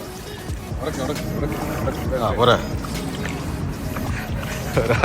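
A vehicle pushes through deep floodwater on a rain-flooded road in Dubai, with steady sloshing and splashing water throughout and a louder surge partway through, while people talk over it.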